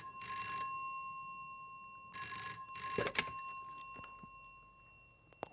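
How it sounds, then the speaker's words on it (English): A telephone rings in two bright, clattering bursts, the second cut short and faded quickly into a softer pickup click and handset rustle, played back as a show-control sound effect. "when it's ringing, we're going to fade out the original ring very quickly"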